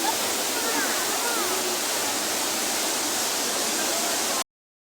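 Fast river water rushes in a strong, dense roar, loud and unbroken close by until it cuts off abruptly.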